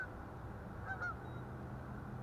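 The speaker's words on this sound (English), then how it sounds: "you can hear the geese. Listen to them." A few distant goose honks sound briefly over a low, steady outdoor rumble.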